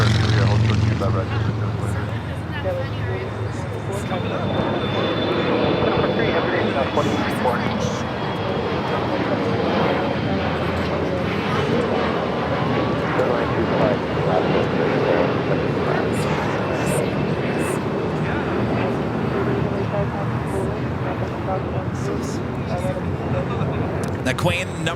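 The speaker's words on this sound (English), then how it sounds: "We do have a DHL ABX Air flight 1820 coming from SFO, a 767-300ER crossing above us here." A DHL ABX Air Boeing 767-300ER from SFO passes overhead near LAX, its jet engines a loud, continuous broadband roar with a faint descending whine, steady for the whole stretch.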